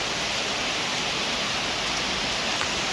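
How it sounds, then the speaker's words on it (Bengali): Heavy rain pours steadily, a dense, even hiss that fills the whole stretch without a break, heard from a veranda with no voices over it. "অনেক বৃষ্টি হচ্ছে, অনেক অনেক"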